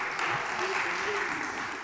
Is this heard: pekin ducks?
no